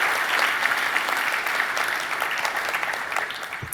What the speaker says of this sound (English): If you guys just give these guys a round of applause, they are really the unsung heroes of the customer experience at Docker.